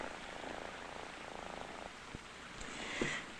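A cat purrs steadily and close while lapping milk, with a few soft clicks and taps over the continuous rumble. No one talks.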